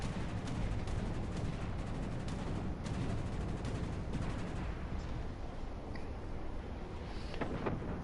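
Naval gunfire from the Japanese battleship Kii in a warship video game, heard as dense, rumbling low booms and rapid cracks merging into a continuous roar, with no speech.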